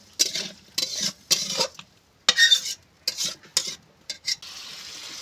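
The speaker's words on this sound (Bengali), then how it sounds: "এবার আমি অল্প জল দিয়ে দেবো। দিয়ে আমি ভালো করে আলুটা কষিয়ে নেব।" Potatoes stir-fried in a pan with a little added water, a spatula scraping in quick bursts of clatter separated by short pauses, a faint sizzle underneath, close by with no speech.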